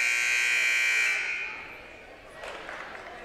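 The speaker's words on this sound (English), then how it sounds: "Buzzer sounds" A steady electronic buzzer at a seventh grade boys basketball game in a gym, holding loud for about a second and a half before fading, with faint crowd murmur underneath.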